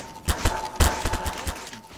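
Gunshots in a Hogwarts roleplay video game on Halloween, several sharp reports in an uneven burst with a low thump under each, the loudest shot near the middle followed by weaker ones.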